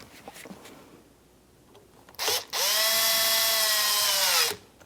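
A power drill snugs a screw on a liftgate lock actuator of a 2011-2021 Jeep Grand Cherokee, with a brief whir, then a few seconds of steady high whine stopping abruptly.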